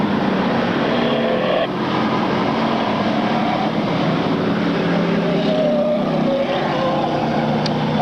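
Street stock race cars roar continuously around turn four of an oval short track during a late-lap feature race, engines droning loud and steady with a dense, overlapping wash of motors passing.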